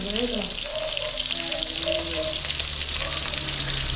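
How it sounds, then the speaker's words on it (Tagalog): Steady, loud sizzling of galunggong fish frying in hot oil, with brief faint voice-like sounds near the start. "ito nag-prito naman tayo ng galong"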